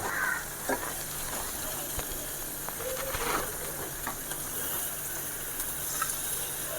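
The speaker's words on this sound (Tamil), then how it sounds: "மீனை எல்லாம் நல்லா போட்டுட்டு அப்படியே லேசாக ஒரு கிளறு கிளறி விடுவோம்" Catfish pieces frying in a masala gravy in a pan, stirred with a steady sizzle and hiss, occasional scraping clicks of the spoon, close and moderate without talk.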